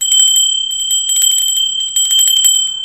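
A bright notification bell sound effect rings in rapid repeated chimes, loud and clear against silence, with no talking.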